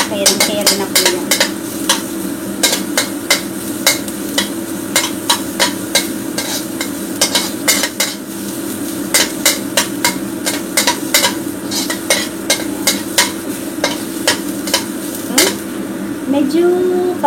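Garlic frying for fried rice in a pan, with a steady sizzle under rapid, repeated metallic scraping and tapping of a utensil stirring against the pan, loud and close throughout.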